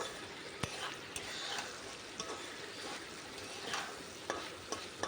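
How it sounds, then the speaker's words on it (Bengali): Steady crackling sizzle of okra frying in a pan, with a few sharp clicks of a utensil scraping or stirring now and then. "এদিকে ভাজাও হয়ে যাচ্ছে"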